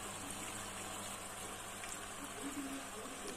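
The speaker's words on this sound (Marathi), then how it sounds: "छोटा धबधबा दाखवलेला आहे आम्ही।" Water spills steadily through a small decorative waterfall set up as part of a home Ganpati festival display, giving a faint, even rushing hiss that runs unbroken throughout.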